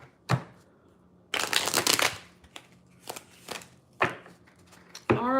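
A deck of playing cards is shuffled with a loud riffle lasting about a second, followed by scattered card snaps and slaps, then a final quick bridge-like burst; no talking.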